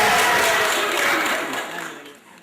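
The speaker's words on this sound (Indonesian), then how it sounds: "Dan kita tepuk tangan." Applause from the congregation at a Toraja church wedding blessing, a dense wash of many hands clapping that swells and then fades away, with no voices over it.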